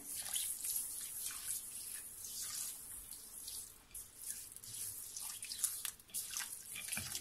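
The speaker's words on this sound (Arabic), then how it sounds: "انا نصب عليه ماء عادي من السباله ماهوش سخون، نبلو بالماء" Cold tap water from a sink pouring onto dry couscous, a soft continuous hiss and splatter nearby, fluctuating gently in strength with brief dips, no talking over it.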